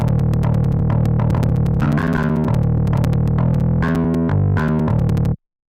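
Synthesized FL Studio bass emulating an 8-string metal guitar, pushed through Sound Goodizer and TSE 808 distortion, chugs in a dense, gritty stream of distorted notes, loud and continuous before cutting off sharply.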